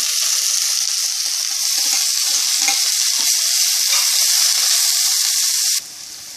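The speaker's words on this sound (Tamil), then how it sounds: "இப்போ நம்ம இஞ்சி பூண்டு பேஸ்ட் சேர்த்துக்க போகிறோம்." Ginger garlic paste sizzles and fries with half-sautéed onions in a pan for a vegetable biryani, a loud steady crackle with a few stirring clinks that drops quieter near the end.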